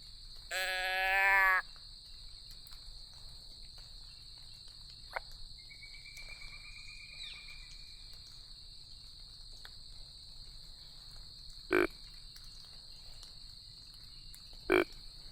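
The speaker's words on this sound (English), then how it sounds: "There's frogs out here." Frogs calling in the woods during a Tennessee public-land hunt, with a loud bleating croak near the start and sharper single calls later, over a constant shrill insect drone in a quiet outdoor setting.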